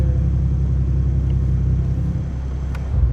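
Turbocharged Toyota Supra GR MkV A90 engine running with a steady, loud low rumble, close by and continuous with no voices.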